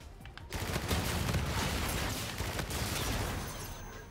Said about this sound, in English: Oh, it's a LMG.